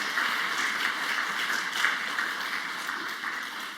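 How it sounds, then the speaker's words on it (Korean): Church congregation applauding to welcome new members at a Sunday service, steady dense clapping from many hands in a large room, sustained at an even level throughout. "자리에서 잠깐 일어나시면 우리 환영하고 축복하는 박수 하겠습니다."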